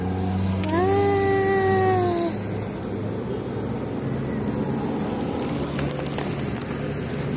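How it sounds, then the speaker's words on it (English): A hungry stray cat gives a loud, drawn-out meow close by, a single rising-and-falling cry that fades after about two seconds, leaving steady traffic and road noise rumbling underneath. "I didn't finish my food and I found this cat"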